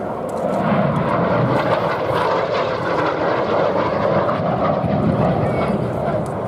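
A Hawker Siddeley Gnat jet in Red Arrows colours roars steadily overhead at the Duxford airshow, a broad continuous rumble and whoosh under an announcer's voice.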